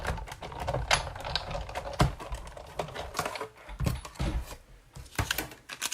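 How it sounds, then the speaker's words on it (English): Paper run through a Big Shot die cutting machine while making a Christmas card and mini pizza box, heard as a run of irregular clicks, clacks and mechanical rattles at close range, with no talk. "you can still go ahead and run it through the big shot."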